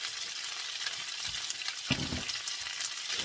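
Boiled chicken feet frying in hot oil with browned spices and pepper, a steady close sizzle with a brief louder crackle as they are stirred.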